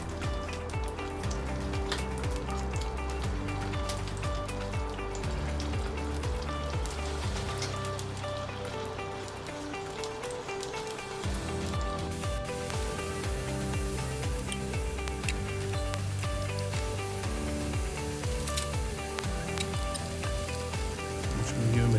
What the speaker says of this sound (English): I'm just going to pop 8 pork sausages in. I'm just going to brown the skins on these.